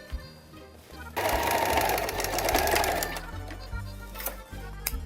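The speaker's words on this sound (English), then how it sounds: "You pin this black down so it gives you more support when you sew over it, and sew very close to the edge" A sewing machine stitches fabric close to the edge of a pinned garment piece in a steady, close whirring burst lasting about two seconds, followed by quieter clicks and handling.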